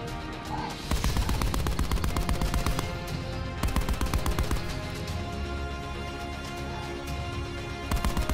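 Sustained rapid gunfire in the video game Call of Duty: Black Ops 4, dense overlapping automatic shots crackling steadily and loudly for several seconds with only a brief pause.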